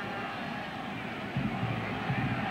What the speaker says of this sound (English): crowd now collectively on its feet